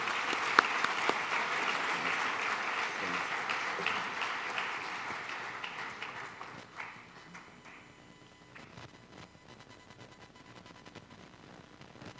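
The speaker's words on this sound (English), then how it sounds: "let's give them a big round of applause as they come up" Applause from a high school audience at an organ and tissue donation awareness assembly: steady clapping fills the first seven seconds, then thins out and fades into quieter room noise.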